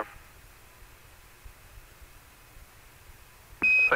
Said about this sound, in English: Too fast, alarm.